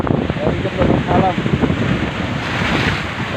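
Strong storm wind and big sea waves batter a coastal village, where seawater is hitting houses. The roar of the surf and gusty wind buffeting the microphone are loud and continuous, with a voice faintly underneath.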